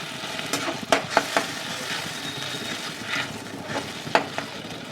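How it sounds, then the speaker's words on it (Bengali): Whisked curd with almond and cashew paste being stirred in a pan over a low flame, a steady gentle sizzle broken by a few sharp spoon clicks and scrapes against the pan. "যেহেতু দই প্রকৃতি হচ্ছে ঠান্ডা, সেই জন্য দইটা সবসময় হালকা ফ্লেমে একটু নাড়াচাড়া করবো।"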